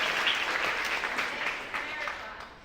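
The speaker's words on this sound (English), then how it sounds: "I think that's worthy of applause" Audience applause at an indoor launch event, a steady wash of clapping from a crowd that holds at full strength, then eases slightly toward the end.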